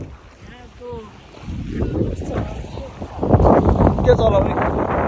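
A jet ski engine drones and builds on the water at a fun park, growing louder and rougher toward the end amid gusting wind noise, with voices chatting over it.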